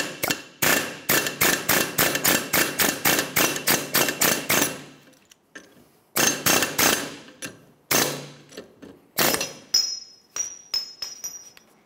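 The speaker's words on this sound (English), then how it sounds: "you can use a hammer and punch or an air chisel and go ahead and just drive this right off" A hammer strikes a punch in fast repeated metallic blows, driving a wheel bearing race off the front hub of a 2011-2020 Toyota Sienna, in several rapid volleys separated by short pauses.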